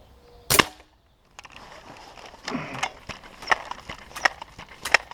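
Crosman M4-177 air pistol firing H&N pellets: one sharp, loud crack opens, followed by several quieter snaps and clicks spaced roughly half a second apart, close up against a quiet room.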